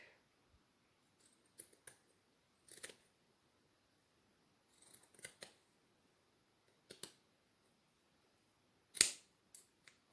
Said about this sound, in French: je vais juste découper le surplus